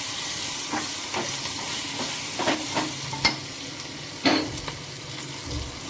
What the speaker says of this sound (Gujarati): જો એકવાર ફરી મરચાંને આપણે હલાવી લઈશું.